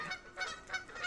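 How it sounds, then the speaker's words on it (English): Geese honking outdoors near a lake beside a dog park, a few repeated nasal calls in quick succession, moderately distant and alone. "The geese are out, as you can hear, Sag."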